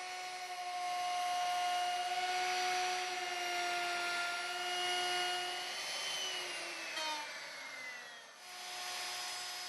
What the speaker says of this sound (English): run the router around the wood counterclockwise